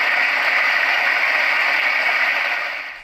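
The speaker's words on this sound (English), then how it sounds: "And now we're back to the thunderstorm sound." A Roffie white noise sound machine plays its thunderstorm track: a dense, even rush like heavy rain, loud and unbroken, with no distinct thunder claps, cutting off abruptly at the end.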